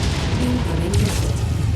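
A missile explodes in the MechWarrior video game, a dense, continuous rumbling boom that stays loud and steady across the whole moment, with no talking over it.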